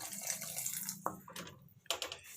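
Tamarind water pours briefly into a pan, a soft splashing trickle with a couple of short bursts, close by and fairly quiet.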